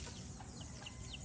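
Free-range chickens and turkeys on a farm, faint clucking calls drifting over a dense, noisy outdoor background.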